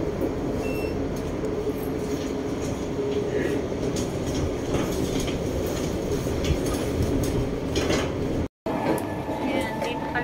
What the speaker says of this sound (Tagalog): dito pa lang ako sa MRT